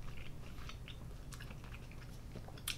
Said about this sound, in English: They have the crunch from the vegetable